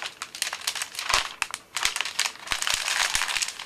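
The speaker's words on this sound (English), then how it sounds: "placing in the cellophane straight into the actual carry bag" Cellophane is folded and crinkled while a three-red-rose Valentine arrangement is wrapped, giving close, irregular crackling bursts and sharp crinkles with short pauses.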